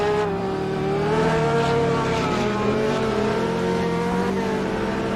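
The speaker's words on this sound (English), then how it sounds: "as 10 flies with another drift out of the chicane" A race car at Daytona in a 2023 GTI season opener drifts out of the chicane, its engine roaring loud and steady with a sustained tonal whine under a faint tire squeal.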